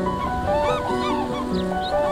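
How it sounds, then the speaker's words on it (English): Black-necked crane, the alpine crane of Tibetan lakes, calling with loud, close, honking trumpeting notes repeated in quick succession over a tonal background. "The majestic black-necked crane."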